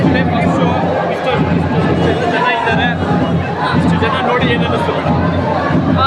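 Dense, loud babble of a large chattering crowd at a movie theatre, many overlapping voices with no pause.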